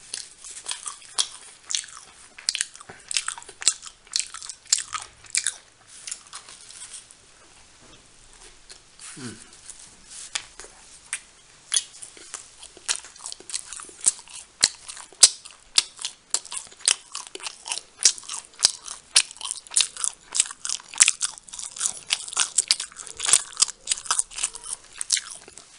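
English muffin pizza burgers are bitten and chewed close to the mic, with crisp crunches and wet chewing in an irregular rhythm throughout, mostly alone with a faint voice at moments.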